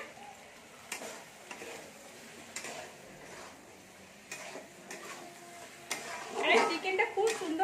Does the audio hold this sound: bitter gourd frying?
yes